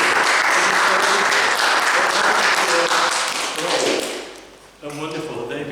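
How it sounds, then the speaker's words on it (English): Audience at a Toastmasters meeting giving a hearty round of applause, dense sustained clapping that tapers off, followed by a voice speaking. "it's traditional that we give them a hearty clap"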